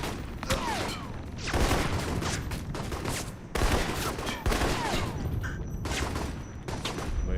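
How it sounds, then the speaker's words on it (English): Sustained gunfire in the video game Alpha Protocol, with repeated bursts and volleys of shots loud and close throughout a firefight, a couple of sharp louder reports standing out. "Somebody else shooting at us."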